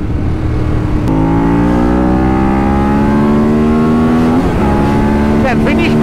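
Engine of an ishoxs bike recorded onboard on a GoPro, loud and close, revving hard and climbing through gear after gear with rising pitch and brief dips at each shift, nearly constant loudness.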